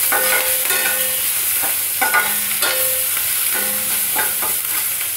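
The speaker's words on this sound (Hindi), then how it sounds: "अब इस टाइम पे ये अदरक लहसुन का पेस्ट, हरी मिर्ची, इसको डाल के अच्छे से भूनेंगे" Ginger garlic paste and green chillies frying in hot oil, a loud continuous sizzle with repeated stirring strokes and metallic scrapes at a regular pace.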